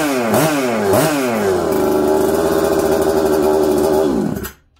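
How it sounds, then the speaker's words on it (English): A freshly assembled Husqvarna 266XP chainsaw running on a workbench with its carburetor not yet tuned: two quick revs, then a loud, steady high idle before it cuts off abruptly. "we have a running power saw"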